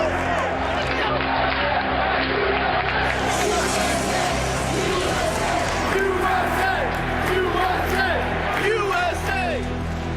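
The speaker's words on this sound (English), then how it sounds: "Listen to that crowd." Large crowd in a ballpark on the night news of Osama bin Laden's death spread, a continuous roar of cheering and chanting voices, heard distant and dense, with someone talking over it.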